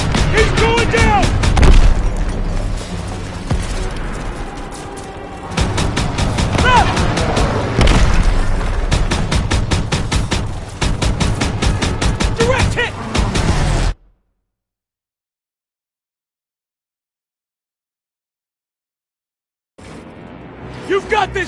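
Gunfire and explosions from the Call of Duty WWII Rhine campaign, March 1945, with heavy booms and bursts of shots mixed with shouted voices for about fourteen seconds, then silence, then the battle noise resuming loudly.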